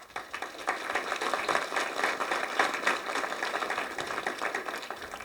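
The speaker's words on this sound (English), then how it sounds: "Let's give them a warm round of applause." An evening audience at a civil rights panel event gives a steady round of applause, dense and crackling, sustained for several seconds with no voices over it.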